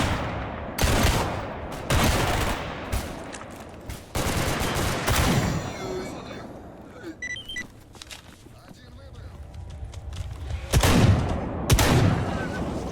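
Shotgun blasts boom out in the S.T.A.L.K.E.R. game, several loud separate shots spaced a second or two apart, then a quieter stretch before two more heavy blasts near the end.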